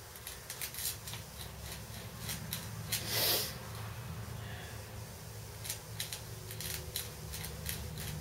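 A rock pressed and ground into a yucca spindle board to seat a friction-fire spindle gives short scraping, clicking taps through the clip, with one louder grinding burst in the middle. No one speaks over it.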